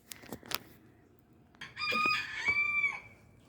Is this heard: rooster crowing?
yes